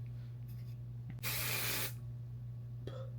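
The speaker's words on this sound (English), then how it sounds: "Should I do a little check-in with the one size setting spray?" One Size setting spray is misted in one steady hissing burst of under a second, close and fairly loud, with faint handling noises before and after over a low background hum.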